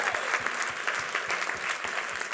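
An audience at a live entertainment careers panel in New York claps for itself, a dense wash of applause with a steady rhythmic beat of claps running underneath.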